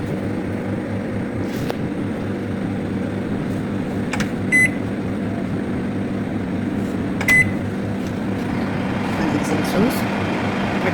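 An oven baking banana bread runs with a steady mechanical hum and fan whir, with a few short electronic beeps and a voice talking over it.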